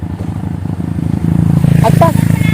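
A motorcycle engine runs steadily nearby on a rural farm road, a loud low rumble that grows slightly stronger partway through, with brief higher rattles over it.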